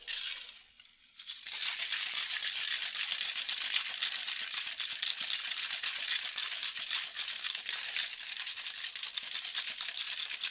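A cocktail shaker filled with gin, passion fruit syrup, lemon juice, falernum and orgeat is shaken hard after a short pause, giving a loud, steady, continuous rattle of ice that runs to the end without any talk.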